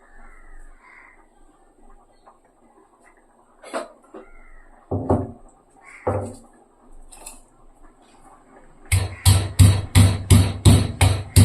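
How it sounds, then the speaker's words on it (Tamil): Ginger and about five or six garlic cloves crushed in a home kitchen, coming as a fast run of sharp pounding knocks near the end after a few scattered thuds and clatters, with birds calling faintly behind. "இஞ்சி பூண்டு கொஞ்சம் நசுக்கி எடுத்து, ஒரு துண்டு இஞ்சி, ஒரு 5-6 பல் பூண்டு எடுத்துக்கலாம்"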